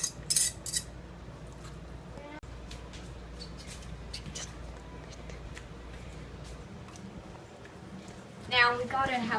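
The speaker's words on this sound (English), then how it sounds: "I'll get all this that I have shredded up now, get it transferred over in this bowl" Shredded barbecue meat being moved into a bowl at an outdoor backwoods cookout, faint scraping and clinking of utensils against the dish, with a few sharper clatters near the start and end.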